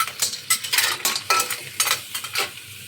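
Clams being sautéed in a pot for clam soup, a few spoon or spatula stirs scraping through at irregular intervals over a faint sizzle, close and fairly quiet.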